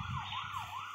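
A police car siren wails in the Vice Town video game, a steady rising-and-falling electronic tone that repeats without break over a low engine rumble.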